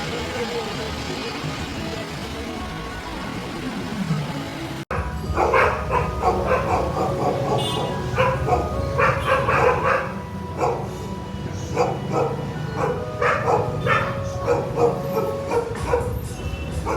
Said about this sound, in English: them damn dogs was fine as long as they did not come anywhere near me